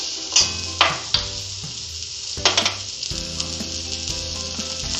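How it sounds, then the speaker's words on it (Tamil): Onions frying in coconut oil in a pan, a steady close sizzle with sharp crackling bursts and soft stirring scrapes, no voices. "இப்போ இதோட நம்ம வெங்காயம் சேர்த்துட்டோம்."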